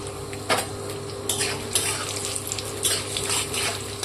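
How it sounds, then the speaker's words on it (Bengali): Cashews and raisins frying in hot refined oil and ghee in a kadai, with a steady close sizzle and occasional stirring clinks of a utensil against the pan, no talking. "এবার আমি কাজু বাদাম আর কিশমিশটা ভেজে নেব"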